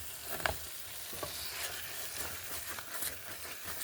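Beetroot stirred and sizzling in a traditional iron pot, a soft continuous frying hiss with scraping stirs and a few small clacks, quiet and close.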